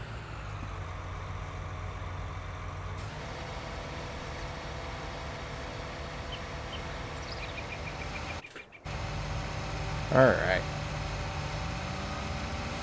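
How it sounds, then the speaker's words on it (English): A tractor engine in Farming Simulator 19 drones steadily at a low pitch throughout, with a brief dropout near the end and a single short word spoken over it. "I know that tractor is kind of loud."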